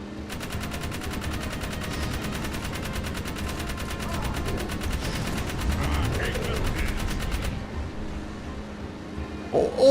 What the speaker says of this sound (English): we have an on-rail shooter mission when we've kind of already established this gun just automatically shoots at things